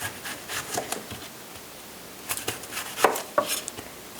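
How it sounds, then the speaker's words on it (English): A knife slicing a medium onion on a cutting board, producing irregular close taps and cuts in short bursts with pauses between them, moderately loud and heard alone. "So first what we're going to do is slice up an onion."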